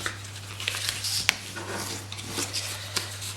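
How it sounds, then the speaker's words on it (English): Scored cardstock folded and burnished by hand for a shadow box gift box: soft, close rubbing and scraping strokes with a few small taps over a low steady hum, quiet overall. "we are then going to start by folding and burnishing along all of those long score lines we've just made"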